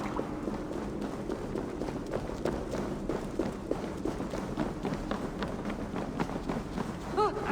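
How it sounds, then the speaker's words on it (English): Rapid running footsteps in the video game Assassin's Creed Valhalla, a steady stream of quick thudding steps under a constant game ambience, with a voice briefly at the end. "That sound. Is it thunder? Footsteps."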